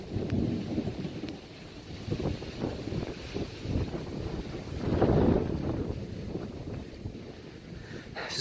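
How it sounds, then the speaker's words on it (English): A severe thunderstorm passes over Dauphin Island, Alabama: thunder rumbles deep and rolling over steady rain and wind buffeting, swelling into a heavier crash midway before easing back to a constant wash. "there's some really good lightning strikes out here right now"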